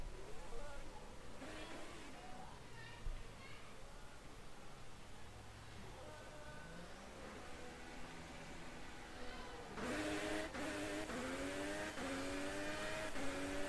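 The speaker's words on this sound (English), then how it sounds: "Keiter Bautista just turned on the car, and let's watch him go out in front of that Tifosi" In an F1 2018 Italian Grand Prix race, a Formula One car pulls out of the pits on super soft tyres. Its engine rises and falls in faint revving sweeps, then surges louder near the end over background noise.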